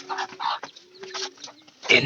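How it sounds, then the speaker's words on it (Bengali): Chickens cluck in short, repeated bursts close by, with low throaty notes between them and a louder squawking flurry at the end. "এখানে মুরগি আছে, মুরগি"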